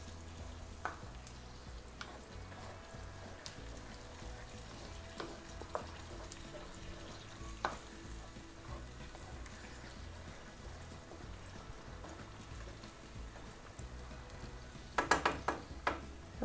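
Bolognese sauce being stirred in a pan, with a soft, steady sizzle and faint scraping throughout, plus a short burst of louder clatter near the end.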